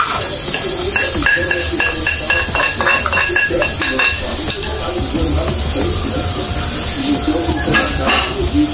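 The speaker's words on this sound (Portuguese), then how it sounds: "Dá uma refogada aqui pra vocês." Chopped garlic and grated carrot sizzle and crackle steadily in a hot pan for rice, with occasional stirring scrapes, close and continuous.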